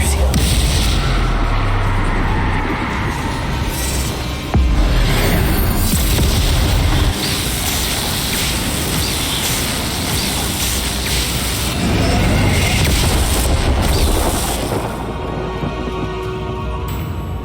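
Confringo explosive spell blasts during a boss duel in Hogwarts Legacy: loud, dense booms and crackling magic effects pound continuously close up, layered with battle sounds and without clear pauses.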